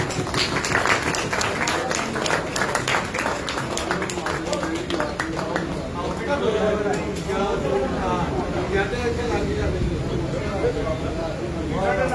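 Applause with clapping from a crowd at a shop opening event, a steady wash of hand claps lasting throughout, mixed with crowd chatter and voices.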